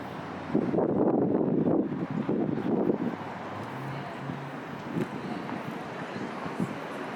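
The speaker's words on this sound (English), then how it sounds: "it's very windy and cold as well." Strong, cold wind blows across an outdoor landscape in Australia, a broad rushing roar that is loudest early on and then settles into a steadier buffeting, with a faint voice briefly present.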